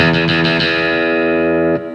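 A bright, twangy 1997 Fender Nashville Deluxe Telecaster rings out with a few quick notes picked close to the bridge, then a sustained chord that cuts off near the end.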